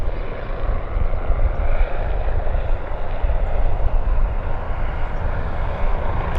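Transport Canada aircraft bearing the Canadian flag at Vancouver Airport, a steady broadband engine roar holding constant throughout, fairly loud and close, with no voices.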